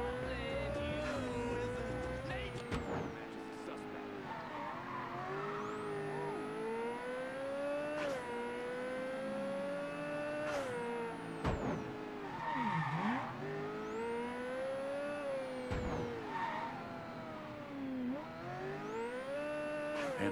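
A car driving in Mafia III, engine droning with steady rising and falling revs and repeated gear-change dips, punctuated by occasional sharp thumps and a high electronic tone, moderately loud and steady throughout.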